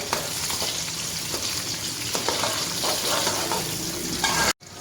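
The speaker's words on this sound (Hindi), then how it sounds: "अब हम इनको भी फ्राई कर लेंगे।" Whole garlic cloves and a piece of ginger frying in hot oil in a pan for chicken curry, a dense steady sizzle with stirring scrapes, close and loud throughout, no voices, cutting off briefly near the end.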